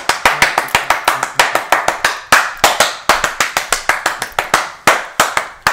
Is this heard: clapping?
yes